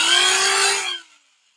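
Angle grinder fitted with a chainsaw adapter running unloaded close by, a loud, steady high-pitched whine that spins down and fades to silence after about a second.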